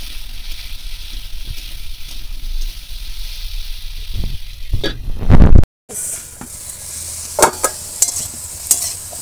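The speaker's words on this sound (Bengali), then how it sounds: "আলুগুলো ভেজে নেব।" Thick, long-cut potatoes frying in oil in a wok, a continuous sizzle with scraping stirs and clatters of the spatula, a brief cut near the middle, no voices.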